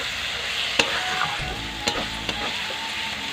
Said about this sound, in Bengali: একটু ভালো করে মশলাটা কষিয়ে নেব